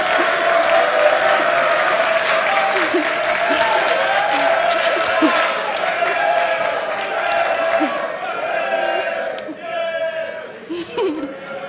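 A crowd of school supporters at a national science and maths quiz cheering and applauding, a dense sustained roar of clapping and voices with some laughter mixed in, fading somewhat toward the end.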